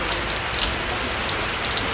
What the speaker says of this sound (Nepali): पानी पर्यो झम झम पानी परेको छ